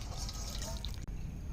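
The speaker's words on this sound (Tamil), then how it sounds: "சுடு தண்ணி ஊற்றிக்கிறேன்." Hot water is poured over goat intestines to soak them, a brief steady splashing flow close by with a short break partway through.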